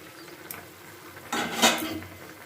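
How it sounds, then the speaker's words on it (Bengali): The lid comes off a cooking pot of simmering Bengali shukto: a faint clink, then a louder metallic clatter close by. "এবার ঢাকনাটা খুলে দিচ্ছি"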